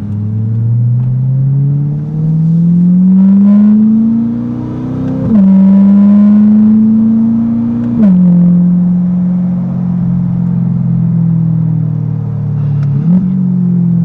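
A 2021 Corvette Stingray C8 accelerates hard through paddle-shifted gears, its loud engine note rising in pitch, dropping sharply at each upshift and climbing again, with several shifts in close succession from inside the car.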